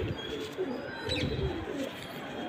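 Pigeon cooing, a Punjabi kabutar: soft low coos and faint chirps rise and fall over a couple of seconds amid steady background noise, with no one speaking.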